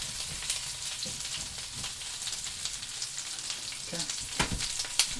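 Steak sizzles and fries steadily in a hot pan for sous vide searing, with a crackling, spattering texture throughout and a few louder pops near the end, close and unaccompanied by talk.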